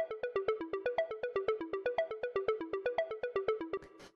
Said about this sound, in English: So then after that, I have this operator, which sounds like this. This is doing the arpeggio that you hear throughout the track